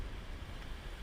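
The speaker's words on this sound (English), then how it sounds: "the wind's a little crazy out here today, Bob." Strong gusty wind buffets the microphone out on a lake while fishing, a constant loud low rumble with no pauses.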